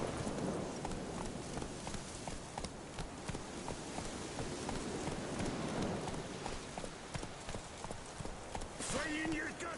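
Hooves of the horse Roach clopping in The Witcher 3: Wild Hunt on PS5, a brisk repetitive rhythm over rumbling ambient game noise, with voices murmuring faintly underneath.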